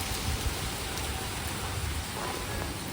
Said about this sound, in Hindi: बारिश होते जा रही है